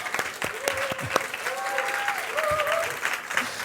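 A congregation at a live worship service applauds, a full steady patter of many hands clapping across the room, with voices calling out and singing over it.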